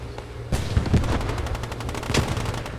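A Post Scriptum battle set in 1944 Sainte-Mère-Église rattles with steady bursts of automatic gunfire and sharp booming hits, all loud and dense with no talking.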